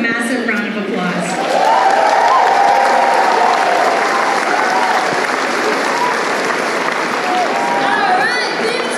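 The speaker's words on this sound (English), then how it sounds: "Let's give them a massive round of applause." Loud, sustained applause from an audience at a paper fashion show, a dense wash of clapping that holds steady from start to finish, with a few cheers mixed in.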